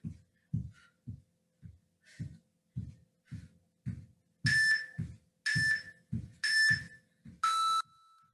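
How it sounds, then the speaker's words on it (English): Rhythmic low thumping pulses of a bodyweight bootcamp workout under a series of electronic workout-timer beeps: three short beeps followed by one longer, louder tone, close and clear. "I should stop after the long beep."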